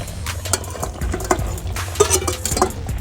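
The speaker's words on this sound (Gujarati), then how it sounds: "આપણે બટેટા જે ફોલેલા હતા એને આપણે ફ્રાય કરવાના છે" Boiled potatoes being fried in a pan for spicy garlic gravy potatoes, with stirring and scraping of utensils against the pan over a low steady cooking noise, close and moderately loud.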